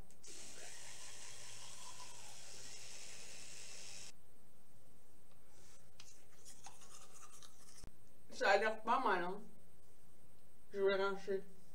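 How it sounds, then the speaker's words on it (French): An electric toothbrush buzzes steadily for a few seconds and then switches off, followed by quiet rustling and someone talking briefly. "mettre en route la brosse à dents"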